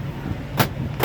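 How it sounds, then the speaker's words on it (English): A 1976 Cadillac Eldorado's power door locks actuate in two quick, sharp clunks about half a second apart, close by, over a low background hum. "Power locks."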